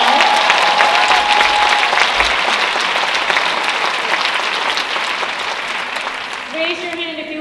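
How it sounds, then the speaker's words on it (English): A large audience at a parent education evening claps for the educators, dense loud applause that fades slightly toward the end as a speaker's voice comes in. "let's give them a huge round of applause"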